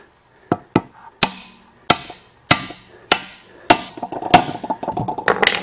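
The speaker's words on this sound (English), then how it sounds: "And start whacking. Have to tap it evenly to get it down square." Steel bar hammering a bearing into a tractor wheel hub, about a dozen sharp metallic blows, evenly spaced at first and then quicker and lighter toward the end, close and loud with no talk.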